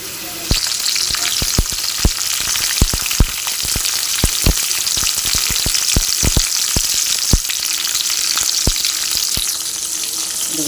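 Onions and lentils fry in hot oil for sambar, a steady dense sizzle with frequent sharp pops and crackles spread through the whole stretch, close and fairly loud with no voices.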